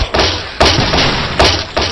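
Dynamite blasts in the Angry Birds Friends video game, a series of loud, heavy thuds with crunching debris, about three or four impacts in under two seconds.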